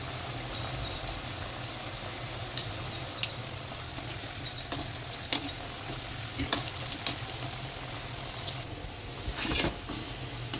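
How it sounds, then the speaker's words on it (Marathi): Aluvadi, colocasia-leaf rolls, fry in hot oil with a soft, steady crackling sizzle and scattered pops, fairly faint and close, with no voices. "तेल छान कडक तापलं आहे पूर्ण तळून देते"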